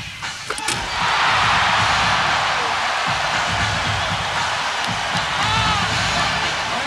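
A crowded arena at the 1992 NBA All-Star Game applauds and cheers Cedric Ceballos's blindfolded dunk, a sustained roaring wash of clapping and shouting after a few sharp thuds at the start, under a commentator's voice.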